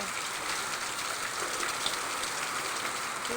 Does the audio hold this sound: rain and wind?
yes